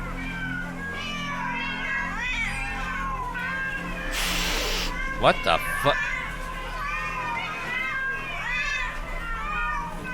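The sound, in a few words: many cats meowing in video game The Excavation of Hob's Barrow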